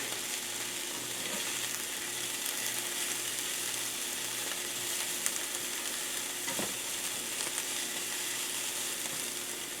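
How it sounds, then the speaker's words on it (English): Vegetables seasoned with salt and pepper sizzle steadily in a frying pan for an omelet, a dense continuous crackle with scraping stirs on top, loud and close with no talk. "I'm going to give that a stir."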